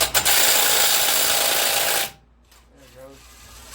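An impact wrench loosening the axle nut on a Yamaha Virago 1100 motorcycle, a loud continuous rattling buzz for about two seconds that stops abruptly, followed by quiet room tone with a faint voice.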